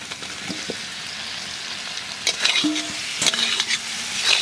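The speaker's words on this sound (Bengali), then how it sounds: "এখানে আলু ভাজা দিয়ে দেবো" Fried potatoes stirred into sizzling masala in a pan for a red river katla curry, with steady frying hiss and a few scraping stir strokes and clinks of the spatula against the pan.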